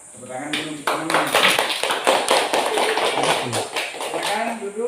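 Group of students applauding together in an Indonesian classroom, a dense steady clatter of many hands lasting several seconds, with voices chattering over it.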